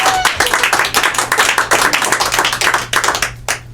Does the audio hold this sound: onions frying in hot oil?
no